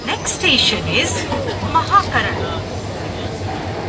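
A Kolkata Metro train runs beneath the Ganges toward Howrah, its steady rumble and rail noise continuous throughout, with passengers chattering and talking nearby over the ride.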